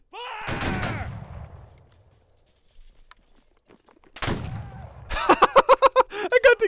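Musket volley fire in the Civil War video game Battle Cry of Freedom: shouted voices come first, then a fast ragged burst of sharp shots cracks out near and loud.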